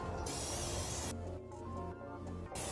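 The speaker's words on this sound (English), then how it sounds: "first we're going to spray the insides here" Bursts of broad, hissing spray from a spray bottle nozzle inside a mold, close by, with a brief pause between the sprays.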